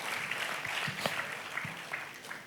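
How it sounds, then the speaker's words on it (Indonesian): Enthusiastic applause from a church congregation during a New Year service: a soft, fairly distant patter of many hands with a few sharper claps standing out. "Boleh berikan tepuk tangan yang paling meriah"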